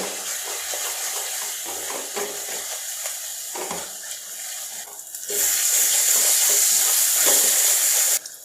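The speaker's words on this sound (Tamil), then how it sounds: "சேர்த்துட்டு நல்லா வதக்கிடுங்க" Masala spice powder of coriander and cumin with salt sizzles loudly while being sautéed in oil for egg gravy, a steady frying hiss with light stirring scrapes that jumps sharply louder halfway through and runs continuously with no talking.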